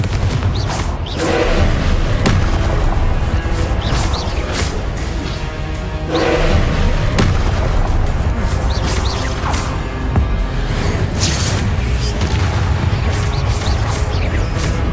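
Confringo spell blasts in the Hogwarts Legacy video game, a dense run of loud booming explosions and crashes with whooshes, continuous and close across the whole stretch.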